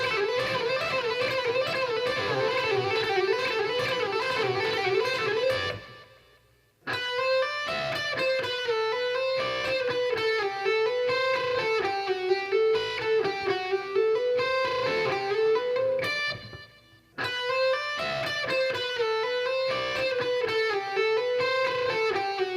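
A guitarist plays a fast diatonic barring lick on distorted electric guitar, a steady stream of notes repeated three times with brief breaks between runs.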